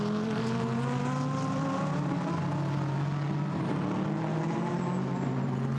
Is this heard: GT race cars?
yes